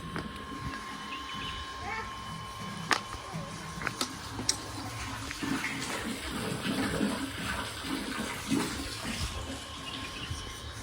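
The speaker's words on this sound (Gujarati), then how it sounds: "અહીંયા કઈ પાણી ચાલુ છે" Water runs steadily from a tap, a continuous near splash and gurgle with a few small knocks on top, while people talk nearby.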